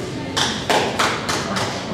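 Hand claps from an audience voting during a Who Wants to Be a Millionaire style quiz game at ASU: five or so sharp, close claps in an irregular run, each a short bright burst.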